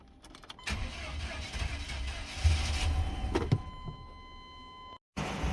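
A 1998 Chevy C1500 pickup with a bad fuel filter cranks briefly, then its engine catches and runs steadily at a loud, close idle before cutting off, with a short burst of sound resuming at the very end.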